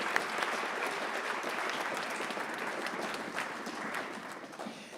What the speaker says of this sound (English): So if we could just give them a round of applause for all their hard work this year.